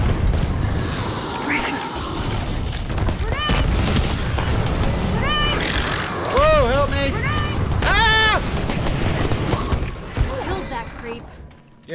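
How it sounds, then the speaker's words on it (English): A grenade thrown and exploding in the shooter game Earthfall, heard as dull booms and bursts of combat noise that sit under almost constant excited voices and game effects. "Throwing a grenade."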